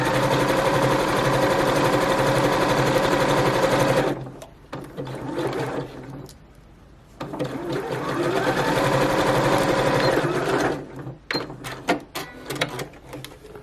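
A sewing machine runs steadily, zigzag stitching fabric bunting, then pauses and restarts with a loud continuous whir before stopping, followed by scattered handling clicks.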